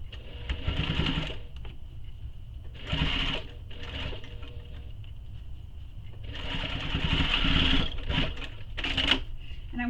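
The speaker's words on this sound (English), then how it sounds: "then I'm going to top stitch where it's clipped" A sewing machine topstitches the clipped accordion pocket of a mini messenger bag, running in several short close bursts separated by brief pauses.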